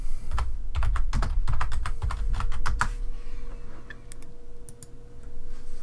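Typing a search into Google on a computer keyboard: a quick burst of clicky keystrokes, then scattered lighter taps and pauses, close and clear, with no talking.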